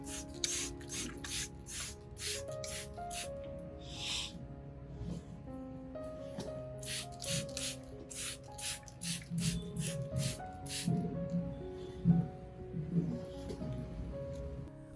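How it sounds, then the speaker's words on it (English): A spray bottle misting orchid leaves gives a long series of short, crisp hisses in quick rhythmic bursts, close but quiet, over soft background music. "Be sure to spray the underside of the leaves too."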